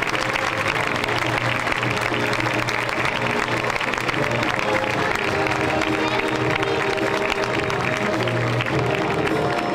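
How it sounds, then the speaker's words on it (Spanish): A concert audience at a festive-music event breaks into continuous, dense applause with some cheering, filling the whole stretch at a steady loud level while a tonal hum sits underneath. "acompañemos en primer lugar a Salvador González Moreno"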